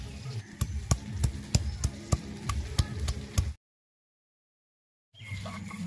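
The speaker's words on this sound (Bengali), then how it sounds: "বেগুনটা ভাজা হতে হতে আদা রসুনটা বেটে নেব।" Ginger and garlic crushed on a stone grinding slab (shil-nora), giving a run of sharp, evenly spaced knocking strokes close by, then a short silence before the grinding noise resumes.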